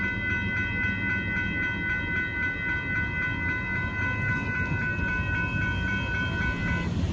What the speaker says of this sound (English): There goes a northbound Union Pacific coal train.